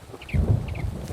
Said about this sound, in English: Lovely sound of thunder.